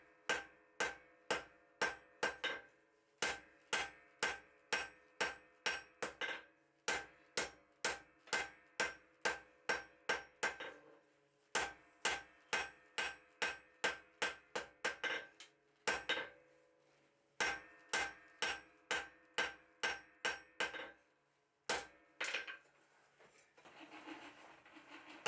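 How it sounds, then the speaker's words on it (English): A cross peen hammer strikes a hot saw blade on an anvil in steady bursts of sharp, ringing metallic blows, each run of hits broken by short pauses, loud and close with no talking. "I'm going to take my cross peen and hammer across the width of the blade"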